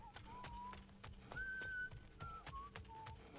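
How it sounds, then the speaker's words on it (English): In a God of War game, someone whistles a short wandering tune, note by note, over rhythmic thudding footsteps or hoofbeats and soft background ambience. "What are you whistling for?"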